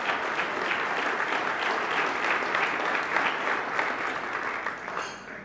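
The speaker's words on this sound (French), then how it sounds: "une bonne main d'applaudissements pour nos partenaires de la catégorie bronze" Sustained applause for bronze-category partners at an induction banquet, a broad steady crowd clapping that stays level for several seconds and fades slightly at the close.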